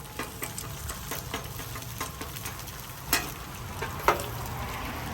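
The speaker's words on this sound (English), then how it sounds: "I have two that want their egg fried well with the yolk busted" Eggs fry on a Blackstone griddle with a steady, soft sizzle and crackle, broken by a few sharper pops and scrapes, heard close with no talk.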